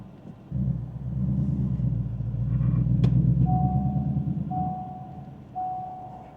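A 2025 Ford Mustang Dark Horse rolling slowly around a parking lot, its engine a steady low rumble that swells and eases, with a sharp click and a few distant high beeps near the end.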